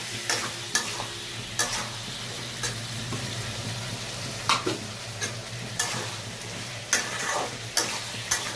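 Papaya, potato and chickpea curry cooks in a pan with a steady low sizzle and bubbling. A spoon knocks and scrapes against the pan again and again in uneven bursts, close and clear, with a faint hum underneath.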